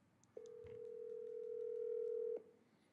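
A telephone line gives a single steady, quiet tone that holds for about two seconds and then cuts off, over low background hiss with no one talking.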